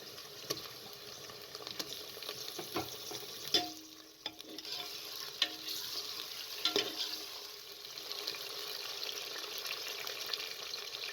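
Quiet sizzling of meat and onions frying in a pan for tinda gosht, with intermittent scrapes and knocks from stirring.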